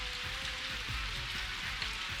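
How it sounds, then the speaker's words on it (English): Steady rainfall in a video game, a soft even hiss of drops pattering on surfaces with no talk, constant and fairly quiet throughout. "Uh-oh, it looks like it started to rain."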